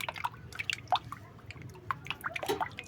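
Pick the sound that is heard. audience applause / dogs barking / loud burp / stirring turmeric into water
stirring turmeric into water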